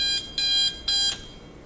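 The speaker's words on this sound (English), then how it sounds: "There's the alarm, okay, which is kind of loud." An RCA RCD20 electric digital alarm clock sounds its alarm: loud, shrill electronic beeps in quick bursts of about a quarter second each, repeating with short gaps.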